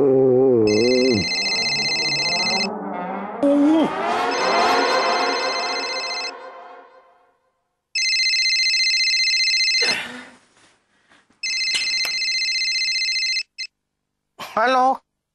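A telephone bell rings in repeated loud bursts in an indoor comedy scene, with voices and music talking over and between the rings.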